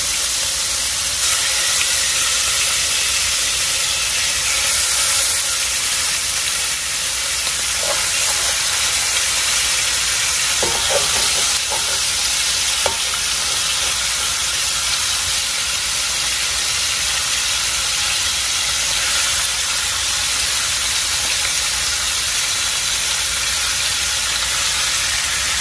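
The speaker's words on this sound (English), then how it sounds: "you're gonna sear them on all sides" Short ribs sear in a hot pan, giving a loud, steady hiss and sizzle that runs without a break and without talk, with a few faint clicks partway through.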